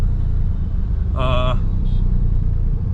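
Road traffic heard from inside a vehicle stuck in a jam near a police barricade: a steady, loud engine and road rumble, with a short horn honk partway through and a voice nearby.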